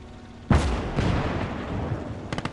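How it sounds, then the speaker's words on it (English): Artillery piece firing in the Operation Mars video game: a sharp, loud boom with a rolling broadband tail, followed later by a short burst of rapid distant reports. "That's the artillery piece, and it's just taken down that other gun in the woods there."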